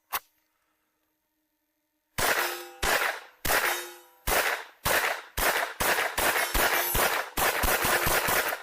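A MAB 38 submachine gun fired in a series of loud, sharp bursts and single shots, one isolated shot first, then a rapid run of close, ringing reports with echoing tails and no talk.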